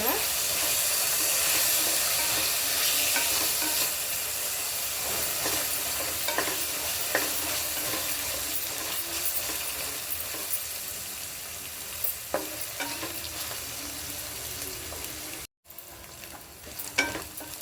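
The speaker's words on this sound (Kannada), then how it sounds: "ಈಗ ಶುಂಠಿ ಬೆಳ್ಳುಳ್ಳಿ ಪೇಸ್ಟ್ ಹಾಕೋಣ ಚೆನ್ನಾಗಿ ಫ್ರೈ ಆಗಬೇಕು" Ginger garlic paste frying in a pan for coconut milk rice gives a steady, close hiss and crackle, with scattered spatula scrapes over the top, thinning slightly toward the end after a short dropout.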